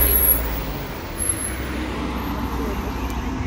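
Low rumbling engine of a bus idling and pulling in nearby, with steady road noise and a faint hiss of brakes.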